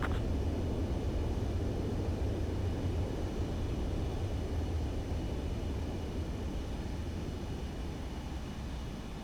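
Fighter jet from Ace Combat 7 rolling down a runway on landing, a loud continuous rumbling engine roar that holds steady throughout with no talk.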